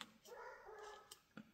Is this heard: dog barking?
yes